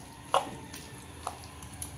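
Red chilli pickle being mixed with a spoon in a container. The sound is quiet and close, with a few faint scrapes and one sharper clink near the start, then soft intermittent stirring.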